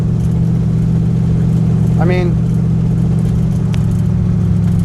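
A street rod's engine drones steadily on the move, a constant low rumble from inside the car while someone talks over it.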